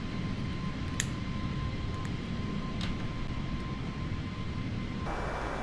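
Airbus A330 airliner engines during takeoff in Microsoft Flight Simulator, a steady, dense roar with a faint constant tone and a few light clicks, continuous and unchanging throughout with no talk.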